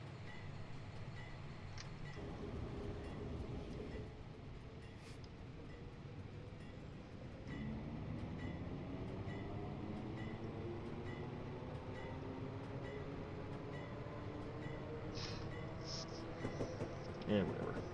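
An NJT U34CH diesel locomotive runs in Train Simulator, its engine a steady low drone with rising tonal whine as it pulls along, continuous and moderately loud, with a few faint clicks near the end.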